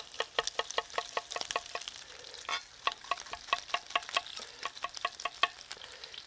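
Coarsely chopped onion frying with hot Italian sausage in a pan, a steady sizzle under quick, rhythmic knocks of a utensil stirring against the pan, close and fairly quiet.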